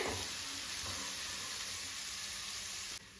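Ginger and garlic coarsely ground, sizzling steadily in hot oil in a pan while roasting to light brown for Punjabi whole moong dal; a continuous close frying hiss with no voices.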